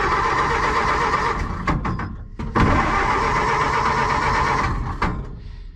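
The engine of a 1931 Ford Model AA 1 1/2 ton truck, roused after more than 30 years, cranks loudly and steadily, catches in a few sharp bursts, then settles into a rough, continuous running roar close by, with no talking over it.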